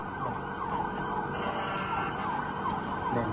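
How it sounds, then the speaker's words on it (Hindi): An air raid siren wails over Tel Aviv in a continuous rising and falling tone, loud and sustained for the whole stretch with no voices. "तेल अवीव में लगातार सायरन बज रहा है"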